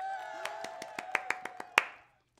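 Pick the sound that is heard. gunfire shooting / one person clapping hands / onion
one person clapping hands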